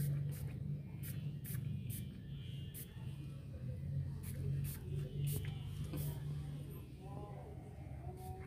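A hand sprayer mists pesticide onto a bonsai lantana plant infested with pests, giving a string of short, sharp spritzes at an irregular rhythm over a low background rumble, with someone speaking softly in between.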